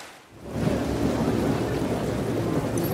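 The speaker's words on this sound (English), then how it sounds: "the rain that has been falling for a couple of hours now shows no sign of letting up anytime soon" Heavy rain falling in the MotoGP 20 racing game, a dense, continuous roar of downpour with low rumbling, steady and loud throughout with no voices.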